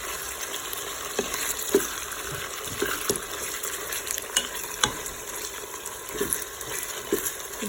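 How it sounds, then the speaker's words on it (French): Chicken pieces browning in a Cookeo multicooker pot sizzle continuously while a utensil stirs them, giving scattered scrapes and taps over the steady frying hiss; no speech. "Donc là, on remue bien comme il faut."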